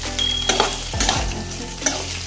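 Cumin potatoes frying in a pan sizzle steadily while a utensil stirs and scrapes through them in a few quick, close strokes.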